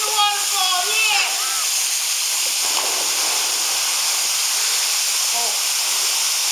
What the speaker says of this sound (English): I'm in the waterfall, yeah!